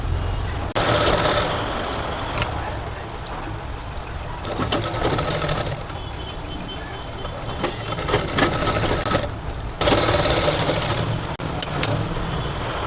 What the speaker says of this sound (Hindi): इसको इस तरह से पलट के सिलाई लगा लेंगे।